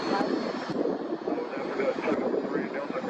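Delta airliner jet engines running at Atlanta's Hartsfield-Jackson airport, a steady broadband roar that stays fairly constant and distant-sounding, with a person talking faintly over it.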